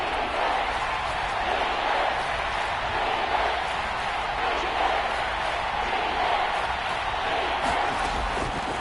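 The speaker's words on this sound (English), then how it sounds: "The crowd getting into it as we come up on a big 3rd down." A crowd in a football video game roars with steady, sustained cheering ahead of a big third down, a broad, even wash of noise that holds at a constant level throughout.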